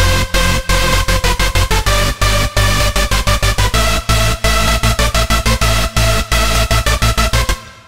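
Layered EDM synths built in FL Studio with Sylenth1, played dry with no effects: a loud, dense chordal riff of quick staccato stabs over a steady low bass, continuous and without talk until a sudden stop.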